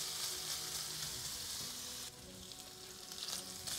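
Bacon sizzling and frying in a pan over high heat, a dense, continuous crackle that shifts briefly as it is stirred, close and without talking.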